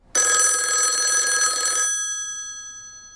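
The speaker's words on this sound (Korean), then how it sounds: "미국으로 떠날 준비를 마친 익현에게 한 통의 전화가 걸려왔고." A telephone bell rings once for an incoming call, a loud, bright metallic trill lasting under two seconds, then fading away into a quiet room.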